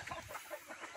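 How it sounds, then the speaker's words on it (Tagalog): Chickens in a backyard range cluck softly in short, overlapping calls, with a rooster among the flock, steady and moderately close but faint throughout. "Masaya yung mga manok natin."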